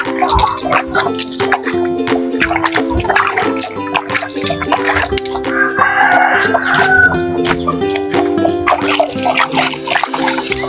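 Native chickens cluck and call close by, mixed with water trickling and splashing, a busy and continuous farmyard scene.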